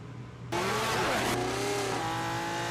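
Ferrari flat-12 Formula 1 race car engine, a loud high-pitched wail that bursts in after a quiet start and sweeps through rising and falling revs, staying close and sustained.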